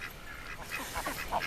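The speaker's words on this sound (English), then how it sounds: "I'm going to try to see if the ducks will be quiet." Ducks on a small homestead quack and honk in a brief, overlapping flurry of several calls, nearby and fairly clear.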